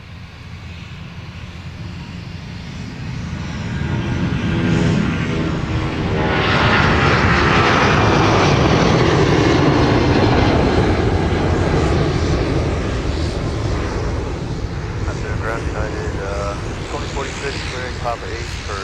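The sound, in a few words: Boeing 757 jet taking off from runway 30 left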